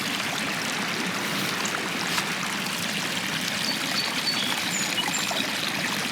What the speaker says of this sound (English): That's quite the flow of water.